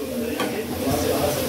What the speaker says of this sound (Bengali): এই গোস্তের তেল দিয়ে আমি এটা করতেছি। তো পেঁয়াজটা লাল লাল হয়ে আসলে তারপর ঢেলে দিব।